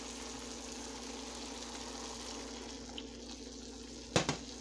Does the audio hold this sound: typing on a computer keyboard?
no